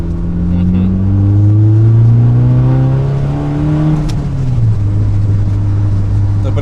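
A 1990s Mazda Miata or Nissan 200SX S13 engine revs up and settles in steady gear-by-gear pulls, a loud close droning from inside the car, with a voice talking over it.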